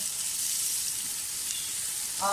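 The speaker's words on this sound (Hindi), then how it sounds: "प्याज अच्छी तरह से फ्राई कर लें।" Onions frying in a pan give a soft, steady sizzle at low volume, with a faint stirring scrape near the end and no voices.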